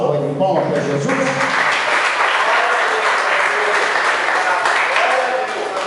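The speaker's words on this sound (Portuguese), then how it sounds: "Você pode dar uma salva de palmas para Jesus?" A church congregation applauds in a sustained, even wash of clapping, loud and steady, with a voice speaking briefly over the start.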